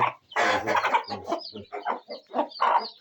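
Chickens in a coop cluck close by in a quick run of short, choppy bursts, with no one talking.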